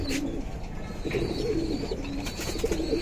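Domestic breeding pigeons coo nearby in soft, repeated rolling calls, with faint chirps in the background and no speech.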